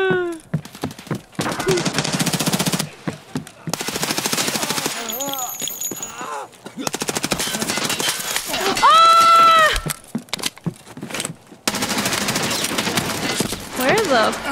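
Close, loud bursts of automatic gunfire in the Tarkov Arena shooter game, rapid rattling volleys broken by short gaps, with a player's voice shouting between and over the shots.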